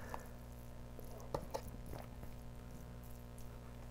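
Cheesy kimchi fried rice slides from a pan onto a plate with faint, wet squishing and a couple of soft plops over a quiet background.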